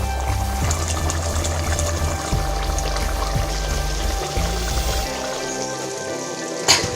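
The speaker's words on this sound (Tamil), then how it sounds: "நமக்கு சிக்கன் நல்லா இப்போ கொதிச்சிட்ருக்கு" Pallipalayam-style chicken uppukari boils in a pan as its water cooks down, giving a continuous, fairly loud bubbling and sizzling hiss with steady low background tones.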